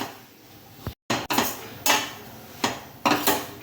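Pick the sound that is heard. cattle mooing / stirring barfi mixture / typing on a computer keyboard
stirring barfi mixture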